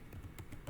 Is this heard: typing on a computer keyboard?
yes